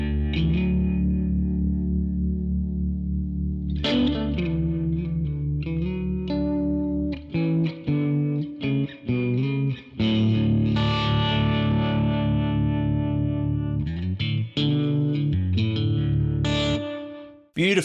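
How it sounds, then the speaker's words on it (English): Electric guitar played through a Keeley Hydra reverb and harmonic tremolo pedal on a pedalboard, sustained distorted chords ringing out with shimmering, pulsing modulation and reverb tails, loud and continuous with brief gaps between strums. "Then we have the Keeley Hydra reverb"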